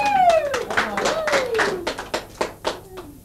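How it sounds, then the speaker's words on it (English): An audience claps for a singer being introduced on stage, giving crisp, uneven hand claps close by that thin out toward the end, while someone talks over them. "Give him a big round of applause."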